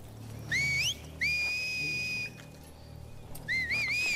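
Enemies in The Last of Us Part II signal one another with shrill whistles: a short rising two-note call, then a long steady whistle, then a wavering trill, each clear against a quiet low rumble.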